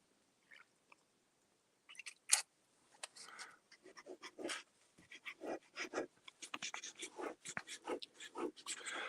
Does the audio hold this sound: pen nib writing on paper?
yes